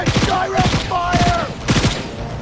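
Rapid bursts of gunfire from the video game Cyberpunk arrive in loud, clustered volleys, with a tonal in-game voice or effect running partly over them.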